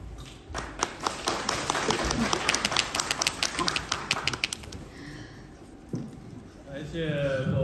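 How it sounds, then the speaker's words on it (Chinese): Audience applause at a live crosstalk (xiangsheng) comedy show in a traditional theater, a dense burst of clapping that builds and then thins out, with a performer's voice coming in near the end. "感谢各位掌声鼓励"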